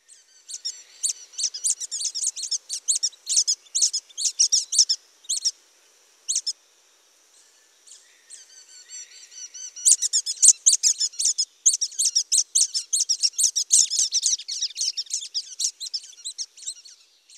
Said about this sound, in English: So there's the two different sounds to pay attention for, to listen for when you're looking for brown-headed nuthatches